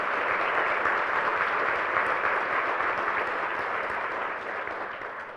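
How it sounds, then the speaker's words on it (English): An audience at a school board meeting applauds in a steady, sustained round of clapping that holds evenly, then gradually tapers toward the end, with no talking over it. "Let's give Mason a round of applause."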